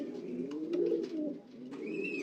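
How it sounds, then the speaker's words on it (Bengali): Racing pigeons in a loft give soft, low cooing, a few close, overlapping warbling calls with brief gaps between them. "এদিকে আরেকটা রেস করা কবুতর"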